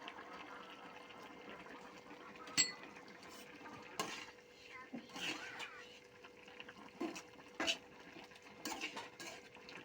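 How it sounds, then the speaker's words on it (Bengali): Ground fried spices go into a pot of Bengali shukto and get stirred, with spoon scrapes and clinks against the pan over a soft background, a few sharper knocks standing out. "এবার আমি দেবো ওই ভাজা মশলাগুলো, গুঁড়ো করে নিয়েছি।"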